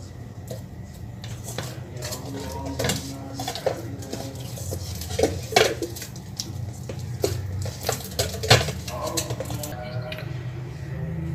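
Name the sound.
bakpao dough being stirred and slammed in a bowl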